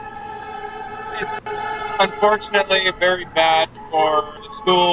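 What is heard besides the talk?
emergency vehicle sirens passing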